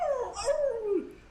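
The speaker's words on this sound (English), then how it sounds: "Cerberus is howling in pain" Cerberus, a monstrous hellhound, lets out a drawn-out howl of pain as a sound effect in a live Dungeons & Dragons game, a single wavering, falling cry with a whimpering edge, close and fairly loud with no voices over it.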